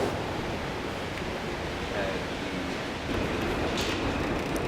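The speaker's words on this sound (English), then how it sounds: "at night, that J train made a lot of noise" A J subway train passing at night, a steady loud broadband rumble and roar that holds for the whole stretch, swelling slightly near the end, with faint voices underneath.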